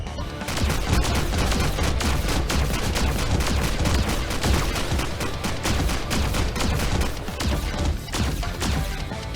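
The boss Phantom fires a rifle in a video game, producing a dense, loud, sustained barrage of rapid gunshots and impacts that runs without pause the whole time, with no talking.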